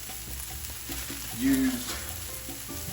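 Onions frying in a pan give a steady close sizzle, with a brief louder burst of stirring noise partway through and a faint word underneath.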